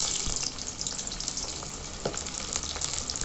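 Flat beans, eggplant and potato fry in fresh oil for a vegetarian curry, giving a dense, close, steady sizzle with faint crackles and occasional small stirring scrapes, and no speech.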